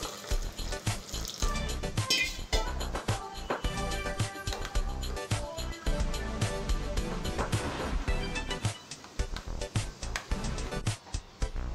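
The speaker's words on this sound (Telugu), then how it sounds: "ఈ పేస్ట్లో సరిపడా వాటర్ వేసుకోవాలి" Water poured or running into a bowl of blended tomato and gongura paste in a kitchen, a steady watery splashing and trickling for the whole stretch, fairly close with no talk.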